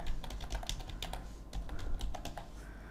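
Keystrokes on a computer keyboard as a domain name is entered, a quick irregular burst of close, crisp clicks with no one speaking.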